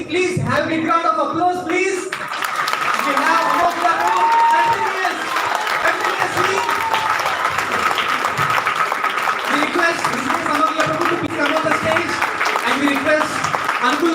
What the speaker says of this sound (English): So please have a big round of applause